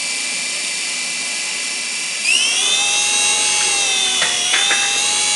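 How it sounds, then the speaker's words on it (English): RC helicopter tail rotor spinning indoors, a loud, high-pitched whine with a buzzing motor tone whose pitch jumps up and wavers as the rotor is turned and corrects, steady and close. "listen to the tail rotor."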